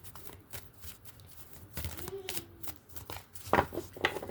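A deck of cards is shuffled close up, giving quick papery riffles and soft slaps in short bursts, with faint talk around them.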